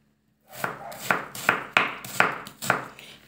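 A knife chops carrots and onions on a board, six crisp evenly spaced thuds in a steady rhythm, close and clear with no voices.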